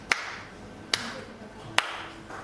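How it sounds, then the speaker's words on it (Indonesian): A few slack, poorly formed hand claps in an indoor demonstration of lazy clapping, three dull separate claps spaced about a second apart, fairly faint against a quiet room. "Atau enggak kadang-kadang kita juga suka tuh tepuk tangan tuh begini."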